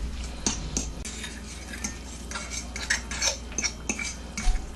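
Rice is stirred into sauce in a pan for a stuffed pepper casserole, with repeated close scraping and clinking of a utensil against the pan over a faint simmer, no voices.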